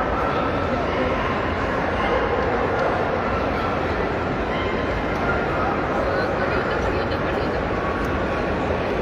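At a world championship dog show, Boston Terriers and other dogs bark and yip amid a busy, crowded hall, with people talking throughout and constant background hubbub.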